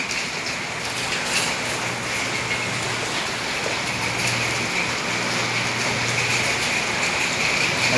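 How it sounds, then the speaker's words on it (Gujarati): Steady, even rain hisses down without a break in Gundala village near Vinchhiya, Rajkot, with no voices, just the constant patter of falling drops. "ધીમે ધીમે ધીમે ધીમે વરસાદ પણ વરસી રહ્યો છે"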